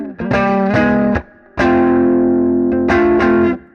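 Electric guitar played through Silver Llama and Twin Panda amp simulations with reverb: three bursts of sustained distorted chords, the first chopped into short stabs, the second ringing out long, each fading into a reverberant tail.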